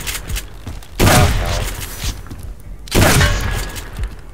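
Two heavy shotgun blasts from the video game Subsistence, each a loud booming burst with a long ringing tail, spaced about two seconds apart amid low background game noise.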